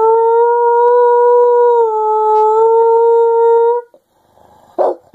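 A person imitates a wolf howl, one long, loud, sustained wavering howl close to the mic, lasting several seconds, then breaking off into brief breathy noises.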